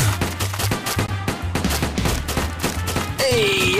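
Rapid SMG gunfire from the Age of Zombies video game, dense repeated bursts of shots over a low looping game soundtrack, loud and continuous throughout.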